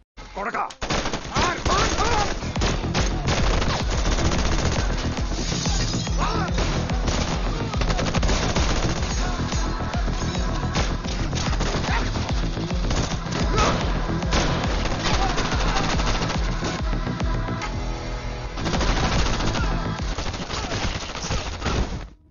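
Sustained machine-gun fire and gunshots in a fierce Indian action-film shootout as villains try to break in, dense rapid bursts under a loud film soundtrack with occasional crashes, continuing almost without pause.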